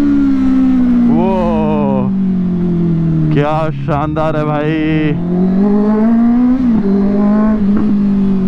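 A Honda CBR650R superbike engine revs while being ridden, a loud, sustained drone whose pitch climbs and falls through the gears, with someone talking excitedly over it.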